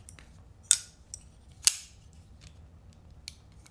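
A Kansept Tarkin folding knife snaps shut with sharp, crisp clicks, two prominent close clacks and a few lighter ticks against a quiet background.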